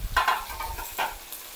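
Ginger and onions sizzle in a little oil in a pan for salmon belly sinigang while being stirred, with a steady crackle broken by a few louder scraping bursts up close.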